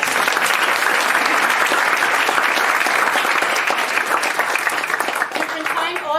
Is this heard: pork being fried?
no